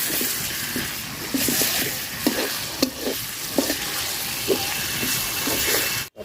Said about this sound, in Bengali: পেঁয়াজের সাথে দিয়ে ভাজা নিব